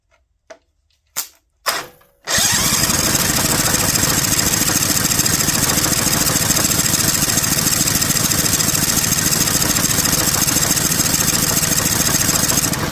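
A Vanguard 18hp engine fires after a few brief cranking bursts, then settles into a loud, steady, continuous run close by.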